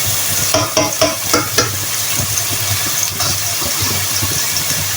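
Escarole for a tortilla fries in a pan and is stirred, a steady close sizzle with a cluster of sharp scraping stir strokes early on, then continuous crackling.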